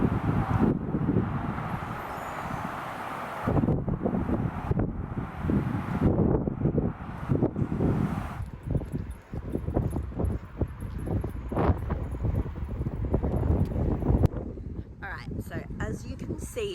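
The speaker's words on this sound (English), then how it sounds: "I like went outside to like show you guys how windy it was, and it is very windy" Strong gusts buffet the microphone in heavy, roaring bursts outdoors, with a person talking through much of it and brief rustling in between.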